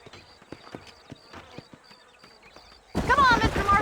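Sparse hoof clops of horses in Red Dead Redemption tap out an uneven rhythm with insect buzz in a quiet scene, then a voice starts speaking loudly near the end.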